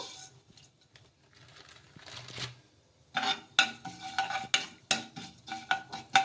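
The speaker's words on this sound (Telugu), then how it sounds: "ఇలా ఈ విధంగా నువ్వులు జీలకర్ర కొంచెం ఫ్రై చేసేసుకుందాము" Sesame seeds and cumin frying in a little oil in a pan, with a spoon stirring and scraping; soft sizzle at first, then a run of louder clinks and scrapes against the pan, close and with no talking.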